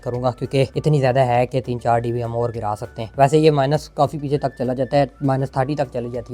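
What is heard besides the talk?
No distinct noise like a dog, phone or traffic.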